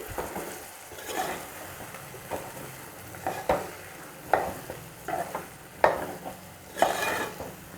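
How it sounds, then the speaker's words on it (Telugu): Brinjal and potato masala curry being stirred in a pan, a spoon scraping through thick mixture with several louder strokes against the metal over a faint steady sizzle. "ఇప్పుడు వీటిని బాగా కలుపుకోవాలి"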